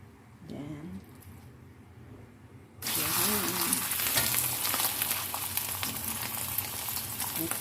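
Cornstarch-coated chicken dropped into hot oil, a sudden loud burst of frying sizzle that continues as a dense, steady crackle, close by, after someone briefly speaks over quieter kitchen sounds.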